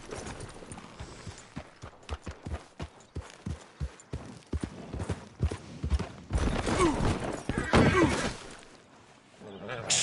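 Horse hooves clip-clopping in Red Dead Redemption 2, a steady rhythmic gait that quickens and grows louder into a galloping rush, with a voice talking over it partway through.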